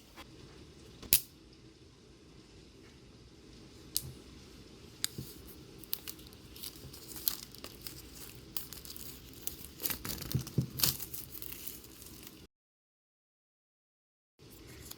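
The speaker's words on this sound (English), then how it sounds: "But I'm so ready to unbox this Apple Pencil." Soft crinkling and rustling of plastic and paper Apple Pencil packaging up close, with occasional sharp clicks and tears, then brief silence near the end.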